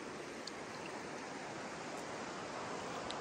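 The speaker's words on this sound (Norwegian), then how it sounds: "Elvevannføring som renner ned med sin bølge og sin lyd." River water rushing steadily along the Bøelva, a dense continuous wash with no breaks, fairly close and unchanging in level.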